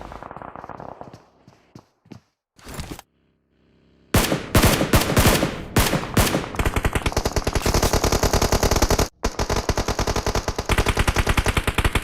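Automatic gunfire in a PUBG tournament match: sparse scattered shots at first, then a short burst, then long sustained rapid machine-gun fire with dense repeated shots, loud and close, with no voices.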